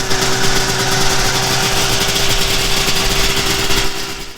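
A vintage triple-cylinder snowmobile engine drones at a constant idle-like pitch, a buzzy, rough mechanical hum with a slight tremble, continuous and close before easing off at the end.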